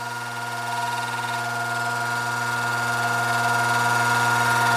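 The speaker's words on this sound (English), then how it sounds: "Now I'll let you hear it without the fan blade on it, so you can really hear the magnetic, electrical magnetic noise it's trying to make." A heat pump fan motor runs with its blade removed, giving a steady, loud electrical hum with strong low tonal bands and a broad buzzy whine on top, slowly swelling in level over several seconds.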